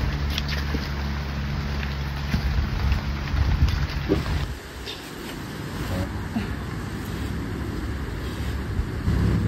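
Rain falls steadily at a tree house build site on a mountain, a broad close hiss with low rumbling that eases partway through, and faint voices come through now and then.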